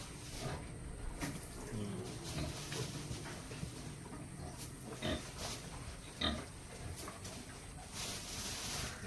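A Mule Foot boar pig feeding, with snuffling grunts and chewing noises close by, scattered sharp clicks and some faint voices in the background.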